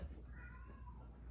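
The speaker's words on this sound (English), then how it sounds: "My cat." A pet cat meows close by, drawn-out tonal calls over a steady low background hum, with no talk.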